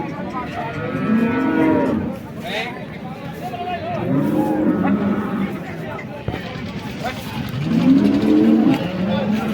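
Several cows moo loudly in long, drawn-out calls, one after another, amid a busy cattle market crowd with people talking nearby.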